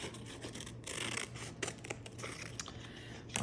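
Scissors snip and rasp through a paper Christmas ornament stencil, cutting out its shape in a run of close, crisp strokes with brief pauses.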